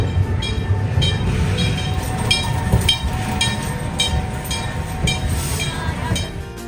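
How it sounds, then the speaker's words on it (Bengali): A small amusement park ride train at Tokyo Disneyland rumbles past with a steady, rhythmic clickety-clack of wheels over the track, close and fairly loud, with faint metallic clinks. "এখানে ট্রেন লাইন এখানে আরেকটু পরে ট্রেন আসবে"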